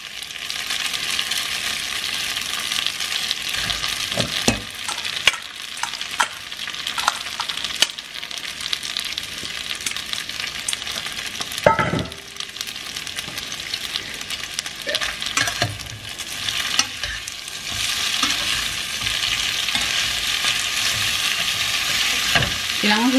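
Singaporean noodles sizzle and fry in a pan while being stirred, a steady loud hiss broken by scraping and tossing sounds throughout, with no talking.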